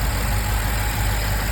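BMW F10 M5 engine running after start-up, a deep steady idle rumble with constant low-end throb, close and unbroken for the whole stretch.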